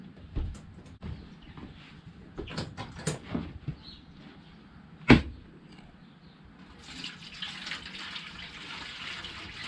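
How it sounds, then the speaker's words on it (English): Tap water runs into a smoker's water pan while a brisket is being prepared, with clanks and handling knocks early on, a sharp bang midway, then a steady rushing flow of water toward the end. "I still have to get some water for my pan."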